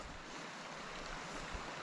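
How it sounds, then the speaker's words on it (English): The waterfall and stream at Davidsons Linn make a faint, steady, even rush of falling water, with no voices over it. "I've made it to the waterfall area."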